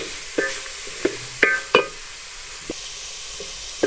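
Carrots, capsicum and cabbage sautéing in a pan, with a steady sizzle under a few sharp scrapes and knocks from the stirring utensil, close and with no voices.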